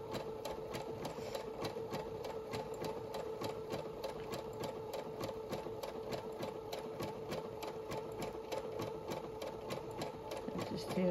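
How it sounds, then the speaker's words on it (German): A household sewing machine runs a preset stitch program on jersey fabric with a twin needle, a fast, steady, evenly spaced mechanical rattle heard close and continuous for the whole stretch. "Ich mache jetzt dieses Programm, was schon auf die Nähmaschine eingestellt ist"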